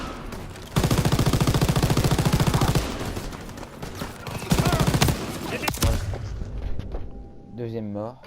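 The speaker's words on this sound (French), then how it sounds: "Que quelqu'un prenne la mitrailleuse." Machine gun fire in the World War II shooter game Call of Duty WW2, loud rapid bursts that come in two long stretches with booms and battle noise between them, ending in quieter game sounds.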